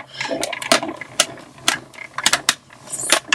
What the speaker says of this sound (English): We're going to run this through our embossing machine